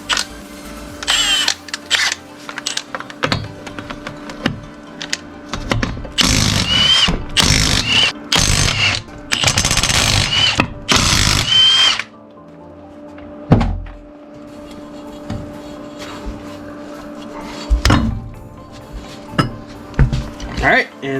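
An impact wrench with a 13/16 socket removing car lug nuts during a brake pad and rotor change, heard as several loud rattling bursts of several seconds each, with quieter pauses and thuds between them.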